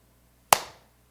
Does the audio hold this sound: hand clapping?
yes